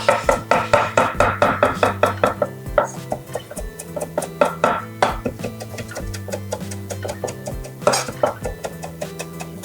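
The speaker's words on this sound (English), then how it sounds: "So I'm just going to give these a rough chop." A knife chops mint leaves roughly on a cutting board while making mango pico de gallo, a steady run of loud, quick close-up knocks that slows into scattered taps.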